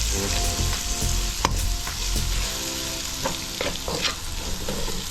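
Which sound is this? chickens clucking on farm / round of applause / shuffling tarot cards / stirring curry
stirring curry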